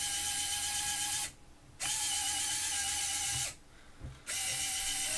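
Small electric motor of an RC Komatsu PC400 excavator model, powered through a step-up converter, whining with a high tonal buzz that stops and restarts twice, each start bringing a brief spike.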